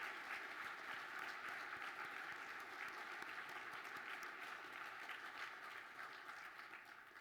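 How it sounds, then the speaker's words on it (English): A large audience applauds continuously at an awards ceremony, a dense, even wash of clapping that holds steady and fades slightly toward the end, heard from a distance and fairly quiet. "please give a round of applause for Social Benefit and for all of our competition participants"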